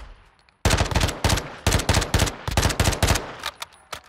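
MP5 Lachmann-Sub submachine gun fired in a video game, loud rapid bursts of sharp cracking shots with short pauses between them, close and clear with no talking.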